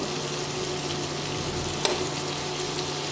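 Cumin powder, coriander powder and salt dropping into hot oil in a pan, a steady close frying sizzle with one brief sharp crackle partway through, no voices.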